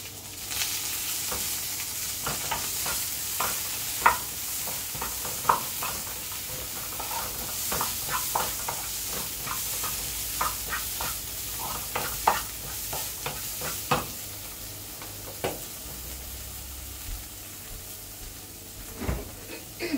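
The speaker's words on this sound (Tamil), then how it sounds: "அப்புறம் ரைஸ் போட்டு கிளற" Cooked rice is stirred in a frying pan over a steady sizzle, with the spoon scraping and tapping the pan in irregular strokes and no voices.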